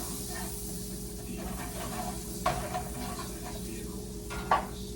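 Butter melting in a frying pan for fried eggs, a soft continuous sizzle with faint hiss and a couple of light utensil clicks, quiet and close, no talk.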